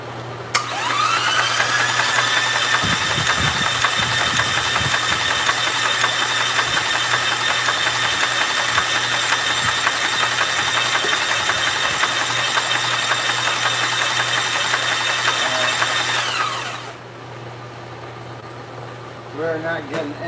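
A motor cranks over, catches, and runs at a steady loud idle for about sixteen seconds before cutting off, during oil-pump troubleshooting on a faulty engine with no oil pressure.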